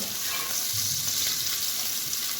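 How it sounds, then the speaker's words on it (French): Chopped onion frying in roughly two large spoonfuls of olive oil in a pan, giving a steady, close sizzle that holds evenly throughout with no voices over it. "Je vais mettre mon oignon. Alors on va le faire dorer."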